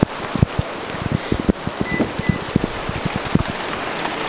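Heavy rain hammers on a 2020 Toyota Tundra TRD Pro, a dense, close drumming with irregular louder drops striking the truck body and a constant hiss of downpour.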